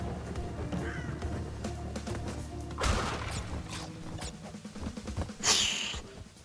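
A bird caws in the Crash Bandicoot video game, a couple of harsh cries standing out amid busy game music and effects.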